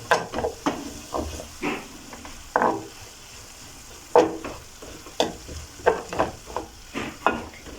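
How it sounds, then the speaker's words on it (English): Minced beef stew ingredients are stirred in a pot, giving a series of close scraping, sizzling strokes at an uneven rhythm with soft frying underneath. "I will just stir for them to infuse in well"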